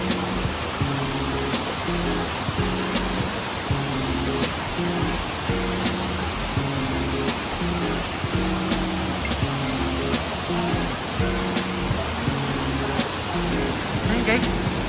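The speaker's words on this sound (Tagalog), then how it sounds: "Narinig niyo po ba yung ng tubig?" Rushing water at Mother Falls in Baler, Aurora, a steady broadband roar running throughout, with people talking over it.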